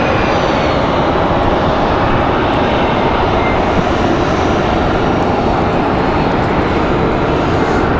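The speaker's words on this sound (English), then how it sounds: "JetBlue finally on the move." A JetBlue airliner moving on the ground at Raleigh-Durham International Airport. Its jet engines give a loud, steady, unbroken roar throughout.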